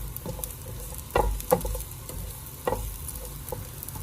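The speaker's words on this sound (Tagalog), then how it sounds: "Magpainit ng mantika sa kawali at igisa ang bawang." Garlic sautéing in hot oil in a pan, a soft frying sizzle with a few sharp stirring scrapes and clicks of the utensil against the pan, close and fairly quiet.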